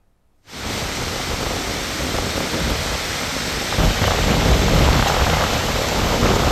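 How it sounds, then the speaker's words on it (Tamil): Heavy summer rain with strong wind in the Nilgiris district around Ooty, a dense, steady roar of downpour that starts abruptly and grows slightly heavier, close and loud with no voices. "பலத்த காற்று மற்றும் இடி மின்னலுடன் மழை பெய்தது"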